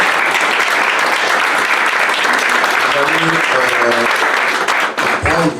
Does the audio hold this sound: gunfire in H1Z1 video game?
no